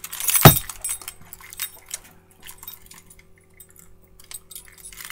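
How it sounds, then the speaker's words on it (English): A bunch of keys on several keychains gives one sharp, loud jangle at the start, then lighter rattles and faint clinks, close by and without talk. "And it's a whole bunch of keychains."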